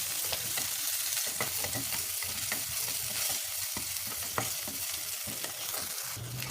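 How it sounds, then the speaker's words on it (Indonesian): Shallots and sliced red chilies sauté in a wok, giving a steady sizzle and frying crackle broken by repeated scraping stirs, close and alone. "Kita masukkan ke wajan. Tumis sampai bawang merahnya wangi dan berubah kecoklatan."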